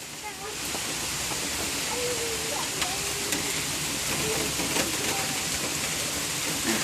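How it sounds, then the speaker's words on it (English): Rain falling outdoors, a steady broadband hiss of drops with faint scattered patters and a voice talking briefly underneath, continuous throughout. "I'm going to kind of step back so the rain doesn't get Eva."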